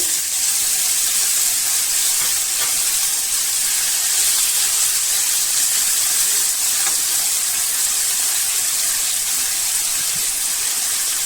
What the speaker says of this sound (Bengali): পেঁয়াজ রসুন বাজা হয়ে গিয়েছে টমেটো কুচি দিয়ে দেব